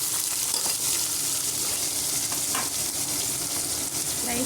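Chopped onions fry in hot oil for upma, giving a loud, continuous crackling sizzle close up and unbroken throughout.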